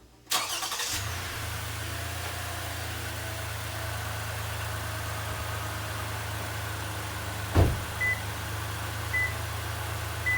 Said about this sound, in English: I'm going to go ahead and start the van now, because we're going to be using that one to jump the truck